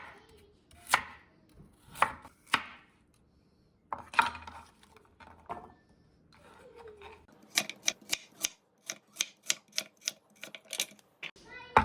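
Knife chopping carrots into chunky rounds on a cutting board: scattered single cuts at first, then a fast, even run of sharp chops, close and crisp, with a person talking between them.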